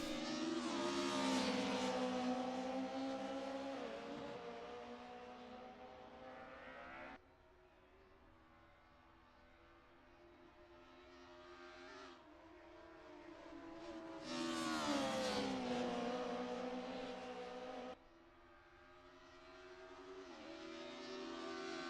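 Two Mercedes 190E touring cars race around the Nordschleife in a DTM racing video game league endurance round, their engines droning and revving continuously, rising and falling through gear shifts with no talk.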